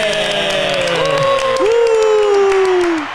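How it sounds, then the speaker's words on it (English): An audience applauds and cheers in a short burst, a steady wash of clapping under bright sliding tones that could be voices or music, loud and close throughout. "And that deserves applause, right?"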